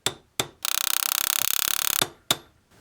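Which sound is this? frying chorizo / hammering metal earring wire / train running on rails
hammering metal earring wire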